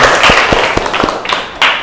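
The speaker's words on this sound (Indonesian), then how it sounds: "tepuk tangan semuanya" Seventh-grade students in an Islamic religious education class clap their hands, a short burst of several sharp, slightly uneven claps, moderately loud, with a rising noisy swell near the end.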